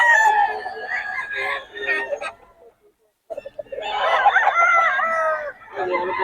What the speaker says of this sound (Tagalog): solid mga manok ng Boss Batang